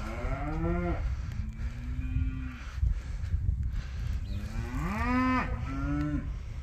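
Cattle in a barn moo several times, long low calls with rising and falling pitch, some drawn out and overlapping, heard over faint barn background noise.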